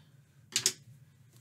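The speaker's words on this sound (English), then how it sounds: "take your scissors, grab the end of your yarn" Scissors snipping crochet yarn: two quick, crisp cuts close by in a quiet room, followed by near silence.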